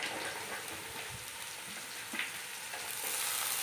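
Chopped carrots and beans frying in a hot pan for fried rice, a steady broadband sizzle running throughout with a few soft stirring scrapes and clicks, close and fairly loud, no voices.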